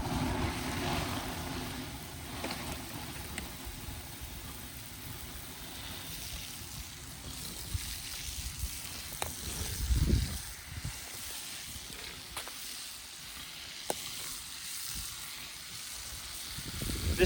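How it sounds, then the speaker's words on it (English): Water poured over burning biochar in a bathtub gives a steady hiss and sizzle with rushing, splashing water throughout, swelling briefly midway, with a few sharp crackles and no voices. "This takes a lot of water to get this stuff fully quenched out."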